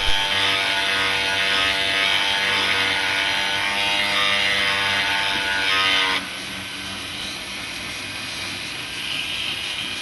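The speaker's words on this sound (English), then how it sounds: "Using a Dremel with a fine sander attached, we carefully sand off the green molding." A Dremel fitted with a fine sanding attachment grinds molding off a plastic Mustang gauge diffuser, a loud, steady high-pitched whine that drops off sharply about two-thirds through into a quieter hum.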